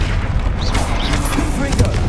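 A Bombarda blasting spell explodes in the Hogwarts Legacy video game during a troll fight, giving loud booming blasts over continuous busy combat noise, with a brief sharp burst near the end.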